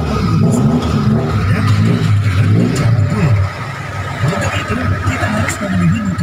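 A 1997 Suzuki Carry (Carreta) engine fitted with an aftermarket racing exhaust revs up and down close by, its rising and falling pitch repeated several times.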